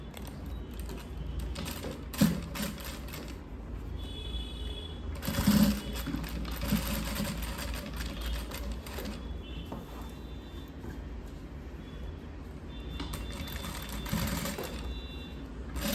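A sewing machine runs steadily and close by while topstitching the neckline of a lined chudi, its fast mechanical whir continuing almost without a break, with occasional brief clicks and handling noises.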